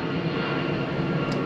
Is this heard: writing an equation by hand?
no